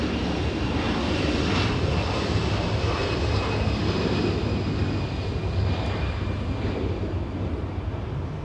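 Airliner arriving at Los Angeles International Airport, a steady loud jet engine roar with broadband rumble that holds constant throughout, no voices.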